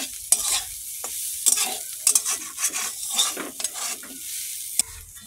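Pomfret fish with eggplant and potato fries in a pan, giving a steady sizzle while a utensil stirs and scrapes the pan with intermittent clinks.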